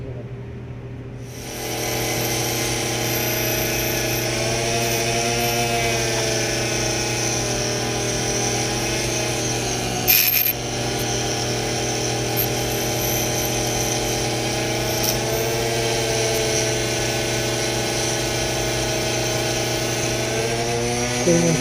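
A wire wheel spins up and grinds steadily against the cooling fins of a 1976 Honda XL175 motorcycle engine, scrubbing off crud with a loud, sustained whine and a brief scrape near the middle.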